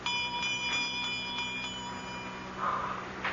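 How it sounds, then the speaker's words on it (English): A small bell rings for a radio drama sound effect, sounding as faint repeated metallic tings at an even pace over a steady hum, with no voices. "Don't you have some kind of a bell around here?"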